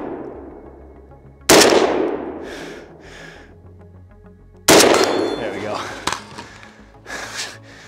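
Two loud, sharp STG-44 rifle shots fired outdoors at a range, roughly three seconds apart, each ringing into a long decaying echo, with fainter knocks and shuffling between them.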